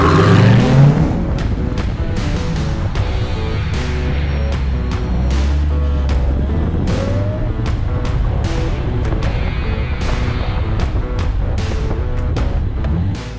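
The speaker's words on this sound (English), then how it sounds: "we're gonna do the exact same bedding procedure, except this time we're gonna do it at 80 miles an hour" A car at about 80 mph bedding in track day brake pads, with a steady loud road and engine roar and a long series of sharp repeated transient knocks and thumps running throughout, no talking.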